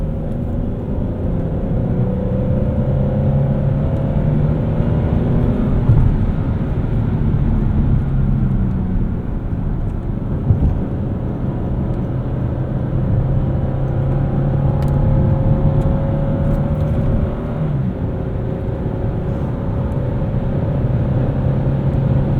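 A 2009 Hyundai Genesis V6 engine revving at about half throttle, a loud, steady drone that rises in pitch and then settles, heard from inside the car with no talking.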